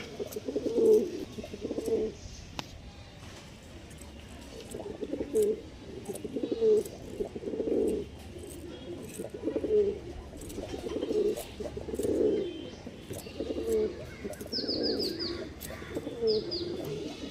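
Pigeons coo in a steady series of low, rounded phrases repeating every second or so, fairly close, with faint chirps of other birds in the background.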